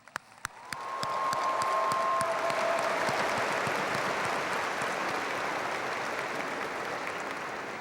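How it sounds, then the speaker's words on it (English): Graduation audience applauding a retiring school superintendent, a few scattered claps swelling within a second into dense, sustained applause from a large crowd that continues steadily to the end. "Will you join me in a hand of applause"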